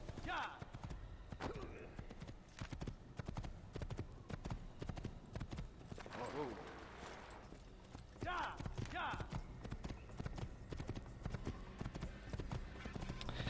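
Steady hoofbeats of a horse galloping in an Assassin's Creed game, rhythmic clip-clop throughout, with a voice talking over it.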